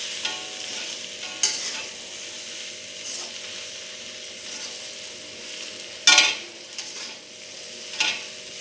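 Okra fries in a pan with ground spice paste while a spoon scrapes and stirs, giving a steady soft sizzle broken by a few sharp clanks of utensil against the pan.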